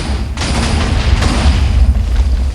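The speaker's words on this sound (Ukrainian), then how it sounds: "Атомна бомба падає!" An atomic bomb exploding in Minecraft with the IndustrialCraft mod, a loud rumbling boom with a sustained, crackling roar close and heavy, lasting a couple of seconds without talk.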